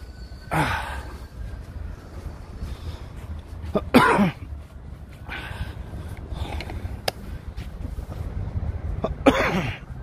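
Several short coughs spaced across the clip, fairly close, against a steady outdoor background rumble with no talking.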